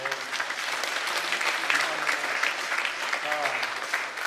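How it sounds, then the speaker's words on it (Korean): Church congregation at a Sunday service applauds a scholarship certificate presentation, producing a full, steady burst of clapping with some faint voices mixed in beneath it. "박수로 격려해 주십시오"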